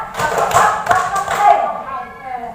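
Hand claps from a call-and-response clapping game, a short run of two quick claps close by, mixed with a voice speaking over them.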